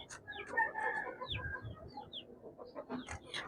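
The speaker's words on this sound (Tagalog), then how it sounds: "Kasi mga manok lang naman to" Chickens cluck and squawk nearby, a scatter of short calls and higher squeals from a few birds, with faint shuffling underneath.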